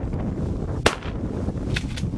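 A single sharp gunshot during early-season goose hunting in Ontario, a brief crack at moderate distance over steady outdoor background noise, followed by faint fainter pops.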